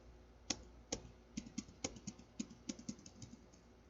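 Someone typing a command on a computer keyboard, roughly a dozen quick, light key clicks in an uneven rhythm, close and quiet with no talking.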